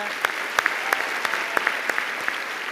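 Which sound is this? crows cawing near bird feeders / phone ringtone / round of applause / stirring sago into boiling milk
round of applause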